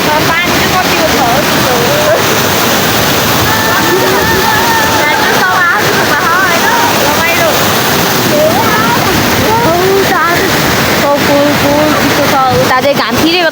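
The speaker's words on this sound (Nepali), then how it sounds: "बिग झर्ना वाउ कस्तो भने यस्तो बवाल छ" A big waterfall pours in a loud, steady roaring wash that never lets up, while a voice talks excitedly over the rushing water the whole time.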